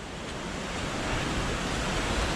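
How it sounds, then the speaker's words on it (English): A waterfall spills down into the River Washburn below an overflowing reservoir, giving a steady, dense, broadband rush that is close and continuous, with no voices. "here's a feature, a waterfall that's adding to the river Washburn below"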